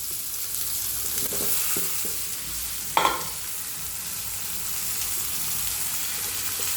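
Mushrooms sizzle and crackle steadily in sunflower oil in a pan with tomato for a pepper fry, with a few scraping stirs and one sharper clatter partway through.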